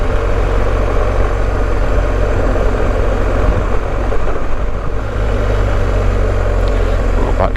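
A motorbike ridden along Forest Drive, a groomed gravel track in northern England: a steady, loud engine drone with rumbling low end and wind noise runs continuously throughout.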